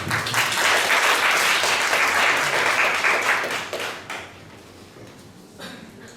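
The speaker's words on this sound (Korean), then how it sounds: "박수 좀 주시죠" An audience applauds at an Energy Day proclamation ceremony, a dense, loud burst of many hands that holds for several seconds and then quickly fades away.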